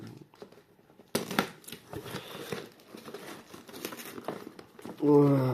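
Parcel packing tape being cut and torn open while unpacking a package, giving crackling, crinkling scrapes and rips that run continuously, close to the microphone, with a brief tonal sound near the end.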